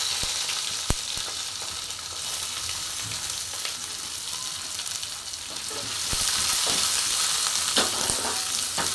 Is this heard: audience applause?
no